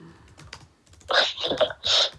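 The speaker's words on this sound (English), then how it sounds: "I'm typing ridiculously loud" Loud typing on a computer keyboard, a few soft taps giving way to bursts of heavy, close clattering keystrokes.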